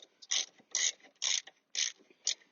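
A wrench ratchets in short bursts of clicking as a bolt is tightened on a Flo Motorsports foot peg on a Harley-Davidson Dyna, five distinct close, loud rounds with brief pauses.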